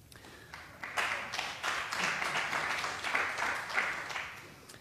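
A lecture audience applauding during a talk on construction contracts, a steady patter of many hands clapping that builds quickly and holds at a moderate, somewhat distant level.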